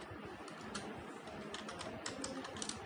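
A man types code on a computer keyboard, a C++ program in a Hindi lesson, with quick, close, irregular clusters of key clicks and no talk.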